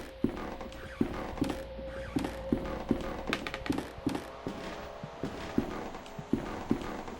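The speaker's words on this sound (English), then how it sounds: "Just me and my crunchy footsteps" Footsteps crunch at a steady walking pace across the ground in The Last Door, the point-and-click horror game, each step a sharp, close tap over a low ambient hum.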